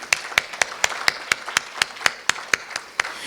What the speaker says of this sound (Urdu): اس بات پر پرزور تالیاں ہونی چاہیے